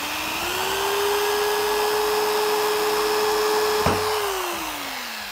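A power drill drilling into ice whines at a steady pitch for a few seconds, briefly catches with a sharp crack, then winds down as it stops.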